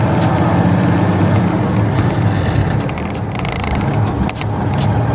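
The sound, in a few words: very old straight truck engine running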